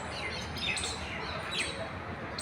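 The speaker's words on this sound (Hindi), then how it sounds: "किस तरीके से आवाज़ें पक्षी की कितना दिल को खुश कर रही है।" Birds chirp faintly on a winter morning, a few thin high calls rising over a dense, hissy outdoor background.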